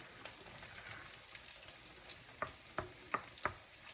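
Creamed corn cooking down with milk and whipping cream in a frying pan, a low steady sizzle with a few louder stirring scrapes near the end.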